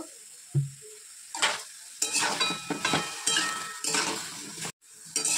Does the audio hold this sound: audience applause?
no